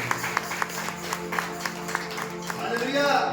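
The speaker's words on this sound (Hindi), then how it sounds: "आइए जोरदार ताली मारकर हमारे परमेश्वर के लिए" A church congregation at a Sunday service claps loudly in a steady, rhythmic beat, spread across a room, while a voice carries on over the clapping.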